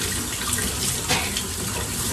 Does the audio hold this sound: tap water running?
yes